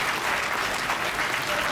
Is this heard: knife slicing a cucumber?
no